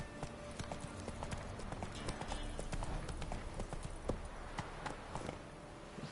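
Hooves of a horse clatter in a brisk, regular rhythm in the video game The Witcher 3: Wild Hunt, fairly quiet with game ambience behind.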